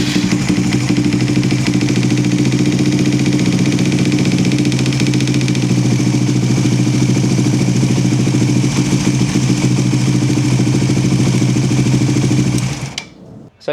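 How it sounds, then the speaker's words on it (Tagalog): A Suzuki GSX 150 motorcycle idling on a cold start, its engine running steadily and loudly up close with a busy mechanical clatter from the cam chain tensioner area, before cutting off abruptly near the end. "mas marinig niyo yung lagitik ng tensioner since mas common siya sa cold start"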